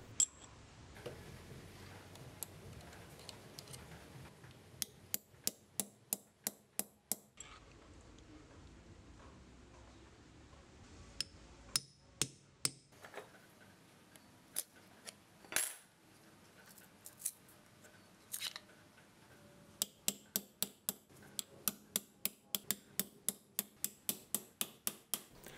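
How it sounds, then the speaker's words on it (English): Rivets being set on a Kydex knife sheath, with sharp metallic taps in quick rhythmic bursts of several strikes each, close and crisp between pauses and occasional handling noise. "Now I'm going to install the first two rivets at the tip of the knife"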